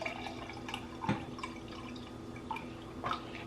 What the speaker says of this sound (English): And then I'm gonna do 4 ounces of perky water.